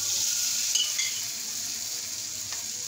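Oil sizzles in a pan for a potato pancake, a steady close hiss with a few light clinks and stirring scrapes near the start that then settle into an even frying sound, with no talk.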